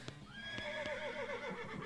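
A horse in the video game West of Loathing whinnies once, a loud rising-and-falling neigh lasting under two seconds, over a few soft clip-clop hoof taps.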